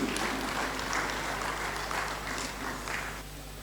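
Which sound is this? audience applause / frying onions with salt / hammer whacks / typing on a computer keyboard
audience applause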